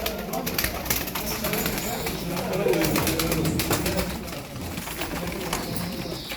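Pigeons at a busy bird auction market coo steadily close by amid crowd noise and wing flutters, while people talk over them.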